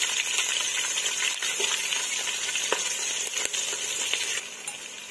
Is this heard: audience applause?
no